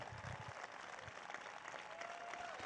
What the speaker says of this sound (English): Give them applause, all these people who stood up, every one of them.